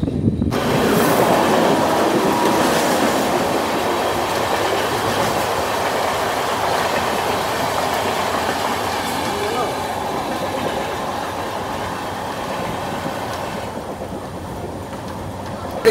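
The Mumbai CSMT–Howrah Mail train rumbles past close by, loud and steady, with a continuous clickety-clack of wheels on the rails throughout.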